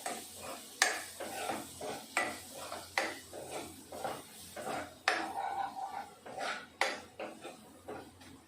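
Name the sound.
mixing spices in a pot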